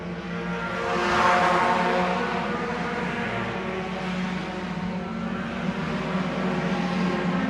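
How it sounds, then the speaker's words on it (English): Race cars roaring down the front stretch of a dirt track, a steady distant engine drone swelling briefly early and then holding level, with no talk over it. "Cars still going almost 3 wide, exiting turn number 4."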